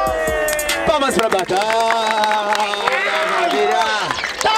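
Crowd clapping and cheering at a street rap battle in Barueri, loud and close, with shouts and whistles as voices talk and yell over it.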